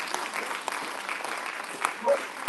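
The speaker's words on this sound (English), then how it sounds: "give him another round of applause" Audience at a youth symposium afternoon session applauding, soft continuous clapping heard from a distance, with a voice briefly over it.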